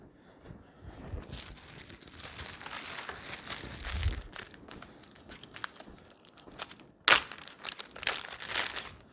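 A plastic snack bag crinkles close by while being opened and filled, with soft continuous rustling broken by one sharp crackling burst.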